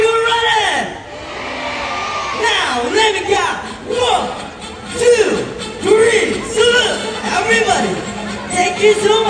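A large tourist crowd at a sea lion show cheers and whoops loudly on cue, voices rising in waves of shouting and chatter that swell and fall across the stands.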